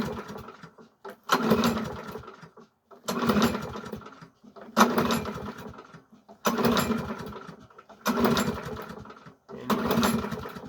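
A Briggs and Stratton 5.75 hp small engine with all its guards on surges in repeated bursts about every second and a half. Each rough, buzzing run drops out to near silence before it catches again, close by.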